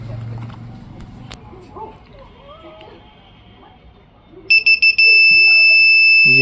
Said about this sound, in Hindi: ये कंटिन्यूस बीप मार रहा है